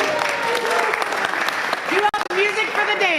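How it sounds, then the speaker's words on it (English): Audience applause at a chamber meeting honouring the Rotarian of the day, loud and sustained with cheering voices on top, cutting off briefly near the end before resuming. "So big round of applause for Sean."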